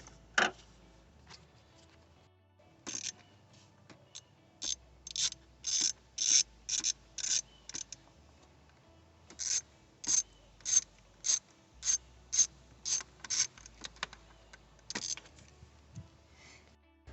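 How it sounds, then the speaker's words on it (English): Ratchet with a number 8 socket backing screws out of a Cadillac Escalade's throttle position sensor, giving bursts of quick, close clicking strokes separated by short pauses, with no talk. "if you use a number 8 socket, you'll get it perfectly out of there"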